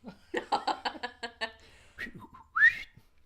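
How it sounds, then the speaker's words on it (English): A person whistles a quick run of short, bright notes, followed by a rising whistle near the end, with a bit of laughter in between. "I just heard a crip whistle"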